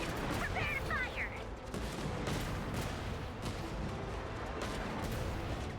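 A heavy weapon in a video game pours out continuous gunfire, a steady dense barrage with some sharp high effects mixed in near the start, holding at a constant level throughout.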